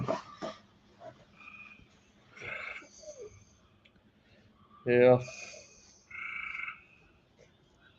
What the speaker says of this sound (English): Probably hear the tree frogs singing back there now.